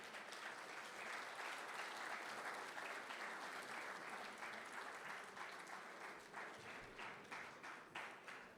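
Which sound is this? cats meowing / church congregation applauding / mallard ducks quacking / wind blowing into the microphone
church congregation applauding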